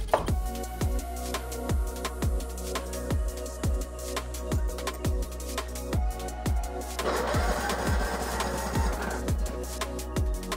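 A racing lawn mower engine, fitted with a new carburettor, cranks with a steady rhythmic chugging that catches and roars briefly into a rougher, louder run near the end, close and loud with no talk.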